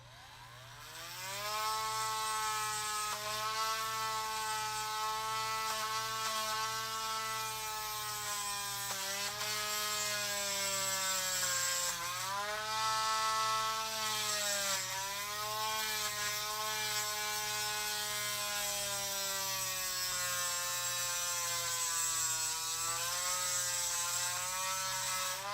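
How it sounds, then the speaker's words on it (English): A rotary tool with a sanding bit whines at a high, steady pitch while grinding down a screw inside an action figure's elbow joint, dipping briefly under load at a few points. "I'm using the sanding bit to try to sand down the screw"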